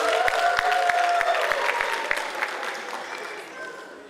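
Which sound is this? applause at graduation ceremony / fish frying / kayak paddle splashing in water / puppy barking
applause at graduation ceremony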